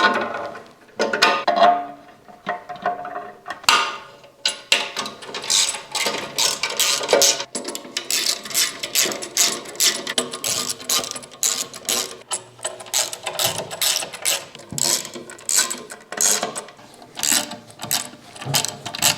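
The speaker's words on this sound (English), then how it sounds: "once all the bolts are in place, you can begin to tighten" A hand ratchet tightening the skid plate bolts on a BMW F900GS motorcycle, rapid rattling clicks in repeated bursts, close and loud, with brief pauses between strokes.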